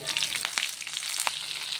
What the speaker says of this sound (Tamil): இப்போ அதை நல்லா வதக்கி விட்டுருவோம்.